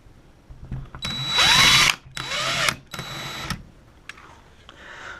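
A power drill drives screws into drywall in two bursts of whirring, the motor revving up and winding down each time, close and fairly loud, followed by faint handling noises.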